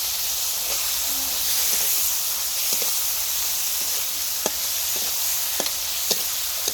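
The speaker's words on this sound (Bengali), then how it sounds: "মশলা কষানো হয়ে গেছে দিয়ে দেবো কেটে ধুয়ে রাখা ছোট মাছ" Small washed fish drop into hot oil with fried chili powder, coriander powder and salt, giving a steady close hiss of frying with occasional sharp pops and crackles and no voices.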